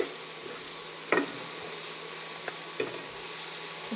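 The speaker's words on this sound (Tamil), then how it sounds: "கீரையை போட்டு நல்லா வதக்கணும் ஃப்ரெண்ட்ஸ்." Spinach and tomatoes sautéing in a pan give a steady low sizzle, with a few short stirring scrapes and clicks at irregular moments, heard close with no talking.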